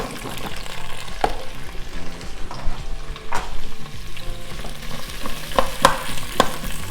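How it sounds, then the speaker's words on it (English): Vegetables sizzle and fry in an Instant Pot, in the fond left from searing a pot roast. A steady sizzle runs throughout, and clear stirring scrapes and clicks rise sharply above it at several points. "Let's just saute those up for about, let's say, a minute or 2 to 3 minutes."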